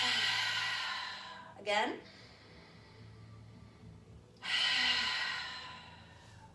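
Two long open-mouth exhales during a yoga breathing exercise, each a loud breathy whoosh, with a short spoken word between them and quiet room tone.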